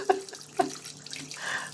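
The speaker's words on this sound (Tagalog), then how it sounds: "Pinalakasan ko na yung tulo ng tubig" Water splashing and running from a kitchen sink tap as a dog is bathed, with a few louder splashes and a steady trickle underneath, close by.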